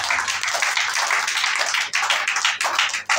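Congregation clapping during a church worship service, steady loud applause throughout with rhythmic claps and crowd noise, briefly dipping before resuming.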